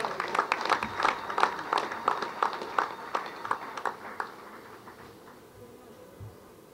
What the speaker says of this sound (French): je vous demande d'applaudir très fort pour vous-même